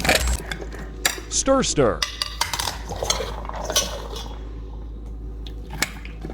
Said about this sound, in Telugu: ఇప్పుడు ఈ మిశ్రమాన్ని నీట్గా కలుపుకోవాలి